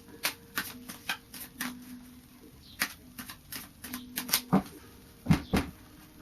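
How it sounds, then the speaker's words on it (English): Tarot cards being shuffled, with a series of quick papery riffles and soft slaps coming in irregular bursts, close by and fairly quiet. "Just do another shuffle."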